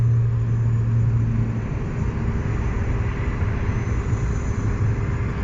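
A propeller airliner's engine hums steadily and fairly quietly at an airport on an airline launch day, a smooth, constant drone with a low tone that fades slightly after the first couple of seconds, with no talking.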